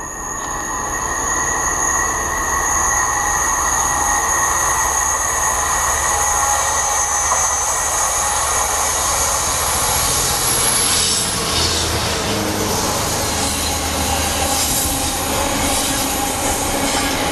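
A Class 350 electric train running from Euston to Crewe rushes past close and loud, with a steady roar of wheels on rails and high whining tones, its pitch shifting as it goes by.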